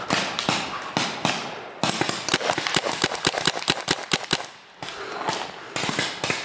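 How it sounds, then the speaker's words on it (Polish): Paintball markers firing during an outdoor paintball game, rapid bursts of sharp pops in quick irregular volleys, some close and loud, others farther off, with brief lulls between strings of shots. "moi do mnie strzelają"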